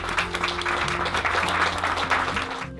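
Audience applause at an Italian presentation, continuous clapping from a crowd mixed with a low sustained musical drone underneath, cutting off abruptly at the end.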